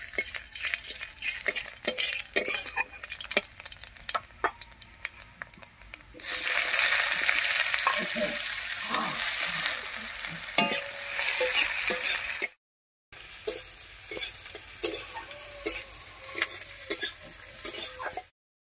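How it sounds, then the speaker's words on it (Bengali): Dried chilli, whole cumin and chopped onion hit hot mustard oil, bursting into a loud, steady sizzle after some quieter crackling and stirring ticks, with no talking. "এবারে একটা শুকনো লঙ্কা, গোটা জিরা আর পেঁয়াজ কুচি দিয়ে ফোড়ন দেবো।"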